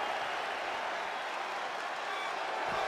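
A crowd in the WWE 2K23 wrestling video game keeps up a steady, moderately loud roar of cheering and scattered applause, with no break across the stretch.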